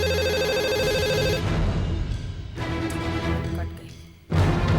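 A telephone ring tone repeats in a steady pulsing pattern, a couple of rings broken by short pauses, with another ring starting at the end, as a call is placed to a home number.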